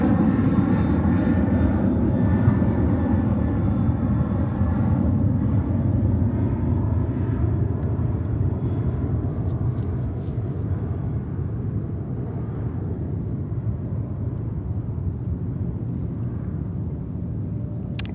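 A Swiss airliner on Flight 22 from Geneva at JFK Airport produces a loud, sustained engine rumble with a thin high whine above it, easing off a little midway and continuing steadily with no voices.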